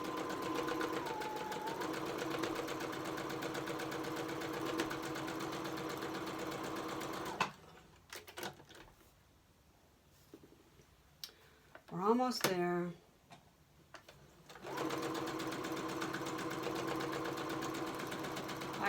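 A sewing machine runs loud and steady in a home craft room, pausing midway while a person speaks briefly, then whirring on again until the end.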